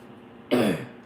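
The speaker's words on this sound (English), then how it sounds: "for some reason this morning, I got to keep clearing my throat" A woman clears her throat once, a short, rough, close-up rasp after a moment of quiet.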